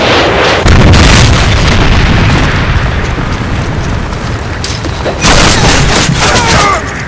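A Predator missile strike in Modern Warfare 3 booms loudly and keeps rumbling with dense blast noise throughout, with a second sharp burst near the end, all loud and close.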